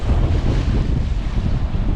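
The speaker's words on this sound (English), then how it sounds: "Done got windy out here on us" Strong wind of over 30 mph roars steadily against the microphone on Lake Palestine, Texas, a loud low rumbling buffet with constant gusting and no voices.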